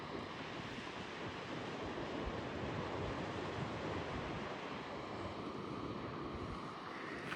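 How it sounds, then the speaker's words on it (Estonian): Ocean waves roll onto a coast near a lighthouse on the Victoria shore in Australia, a steady loud wash of surf blended with wind buffeting the microphone, with no one speaking. "Vaadake neid laineid."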